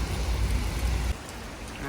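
Steady heavy rain pours in Warsaw Old Town, a dense outdoor hiss that drops to a lighter patter partway through, with no voices.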